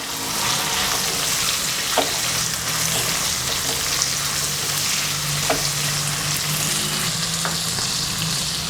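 Onions fry with salt in a pan for Kerala-style beef fry, a loud continuous sizzle with a few sharp spoon taps as they are stirred.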